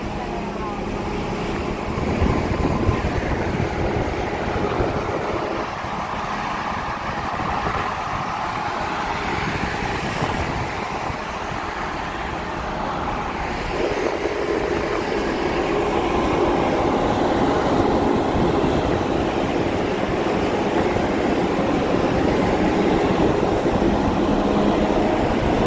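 Steady, loud rumble of a ferry from Palermo to Tunis under way at sea, a continuous low engine and hull drone with broadband noise throughout, unbroken for the whole stretch.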